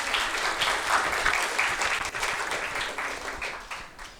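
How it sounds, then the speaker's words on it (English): An audience at a magic show gives a round of applause as a volunteer comes up on stage. The clapping starts at full strength and fades gradually, close and continuous. "Let's give Conrad a round of applause"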